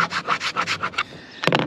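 Sanding partly rubbery sealant on a camper van roof, heard as a rapid series of close, loud rasping strokes that stop for a moment and then resume in a short burst.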